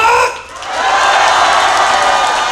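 A festival crowd at the Jincheon Nongdari festival applauds and cheers, a dense, sustained roar of clapping and shouting that dips briefly, then swells and holds loud throughout.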